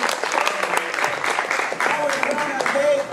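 An audience at a live open-mic poetry night in New Orleans claps for the poet Ms. Tonya as she comes to the stage. The applause is steady and dense throughout, with voices talking and calling out over it.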